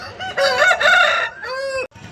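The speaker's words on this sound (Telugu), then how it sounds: "మీరు చూస్తున్న ఈ కాకి నమ్మిలి పుంజు కూడా మన వెన్న సుబ్రహ్మణ్యం అన్న గారిదే" A rooster crows at a hen market, one loud close cock-a-doodle-doo of two drawn-out strained phrases with no talk over it.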